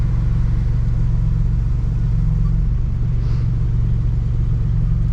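1986 Buick Grand National engine idling, a loud, steady low rumble with an even pulsing beat throughout, close and continuous with no talk.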